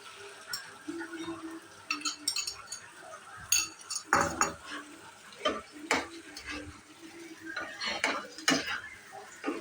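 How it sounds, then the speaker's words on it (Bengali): Milk mixture stirred in a pan with a utensil, close-up clinks and scrapes against the metal in an uneven rhythm, with soft sizzling and kitchen noise underneath. "দুধ গুলিয়ে তারপর নাড়িয়ে চাড়িয়ে ততক্ষণ এটাকে নাড়াতে হবে"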